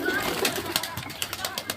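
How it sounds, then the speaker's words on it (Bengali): Many pigeons gathered in a park with a playground coo softly in low repeated notes, moderately close, amid outdoor background noise and someone talking. "দেখেছেন কত সুন্দর কবুতরের মেলা দেখেছেন"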